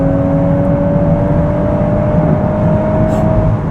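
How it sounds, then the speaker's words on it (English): Volkswagen Golf R in Nürburgring mode accelerating hard, its engine and exhaust giving a loud, steady rising drone with a clear whine running throughout, close and continuous with no voices. "It burped a little bit out the back there as I put my foot down."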